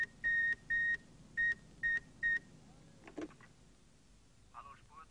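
Incoming call signal on a radio telephone during a 1953 Nanga Parbat mountaineering expedition: five evenly spaced, clear electronic beeps in a quick pulsed pattern, followed by faint background noise and a brief soft rustle.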